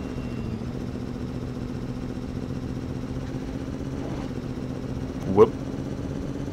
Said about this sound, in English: I'm going to go with lawnmower engine.